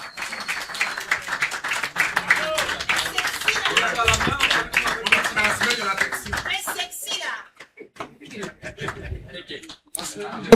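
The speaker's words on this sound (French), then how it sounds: "je vais vous prier d'acclamer, d'applaudir très fort Madame Priscille Messéné" Seminar audience applauds warmly, dense clapping for about seven seconds that thins into scattered claps, with voices talking over it.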